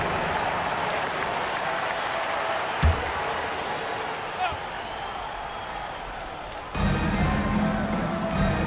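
Crowd applause and cheering inside an arena during an NBA 2K25 basketball game between all-time 76ers and Pacers, a continuous roar under commentator talk with a couple of brief thuds and a louder swell near the end.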